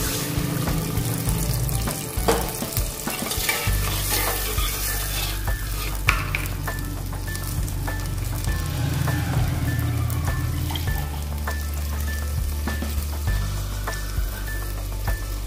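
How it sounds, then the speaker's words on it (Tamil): Coconut milk goes into a hot, sizzling pan with green chillies and ginger-garlic paste, then gets stirred. A steady close frying hiss sits under repeated scraping and stirring strokes and some liquid sloshing, with no talking. "தேங்காய் பால் 1 டம்ளர் ஆட் பண்ணிக்கலாம்."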